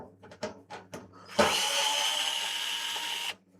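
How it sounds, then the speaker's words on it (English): A power screwdriver at maximum torque backing screws out of an electronics case: a few soft handling taps, then a loud, steady motor whine lasting about two seconds before cutting off. "this is max torque settings. Get these screws out."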